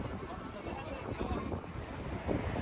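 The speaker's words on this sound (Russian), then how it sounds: "Когда вы его слышите, значит, действительно сильный ветер." Strong wind buffeting and roaring on a Tokyo street in Harajuku, with gusty rumble, and a voice speaking underneath.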